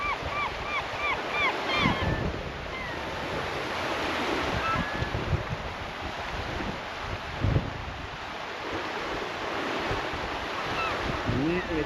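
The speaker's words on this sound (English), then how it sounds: "Pretty windy. That creek is running something fierce." Steady rushing creek water roars alongside gusting wind, with birds chirping faintly at times; continuous and fairly loud throughout, near the Copper River.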